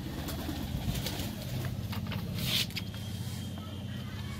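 A pigeon coos steadily while inspecting its nest, a low repeating burble close by over a constant background hum, with a brief rustle partway through.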